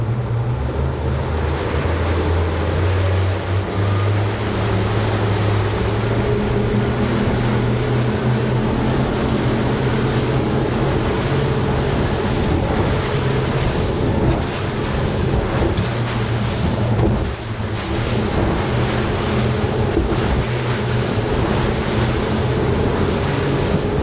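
A Regulator 34 boat running on Eco Enertia 18 propellers produces a steady low engine drone under loud rushing water and wind buffeting the microphone, continuous and close.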